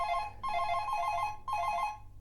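An electronic telephone ringtone warbles in two clear bursts, a brief pause between them, loud and close with nothing else heard.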